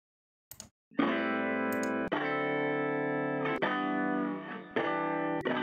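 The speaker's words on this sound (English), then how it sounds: "the same splice sample, just stretched like almost 4 times slower, so you get this sort of artificial guitar sound" Slow, thick guitar-like chords from a sample stretched about four times slower, with a synthetic, smeared texture, changing every second or so, each sustained with a faint click at the start.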